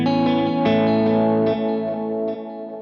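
A guitar played through a vintage digital delay pedal, with a few sustained notes each trailing clean, ping-like repeats. The sound is moderately loud and smooth, with no talking.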